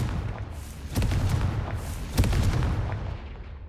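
A Confringo fire-blast spell in a video game goes off as sharp booming bursts, two strong hits near one and two seconds over a steady rumbling background, loud and close.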